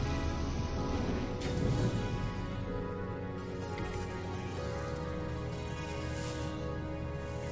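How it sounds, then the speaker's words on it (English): Steady, dense rain patter in the No Man's Sky game, hot rain falling on an alien planet; a continuous hiss-like wash with no breaks, fairly close and even in level. "Painfully hot rain."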